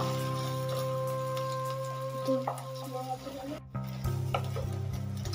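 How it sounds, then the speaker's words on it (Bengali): An egg omelette frying in a pan after being flipped, with a soft sizzle under steady tonal hum, scattered scrapes and stirring taps from the spatula, a brief dropout, then the frying resumes. "উল্টে পাল্টে এটা সুন্দর করে ভাজছি"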